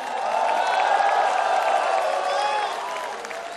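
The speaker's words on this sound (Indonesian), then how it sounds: "Tepuk tangannya dahsyat penuh rasa cinta." A crowd claps and cheers steadily at a political party anniversary rally in Indonesia, a dense wash of applause filling the space, fading slightly toward the end.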